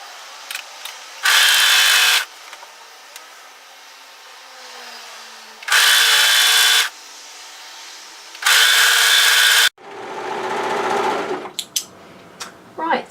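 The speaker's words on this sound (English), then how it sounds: "so now we're going to overlock the other shoulder" An overlocker serges the shoulder seam of a mid-thigh cocoon-style knit cardigan in three steady buzzing bursts of about one to two seconds each, with quieter handling sounds between them and a different whirring run near the end.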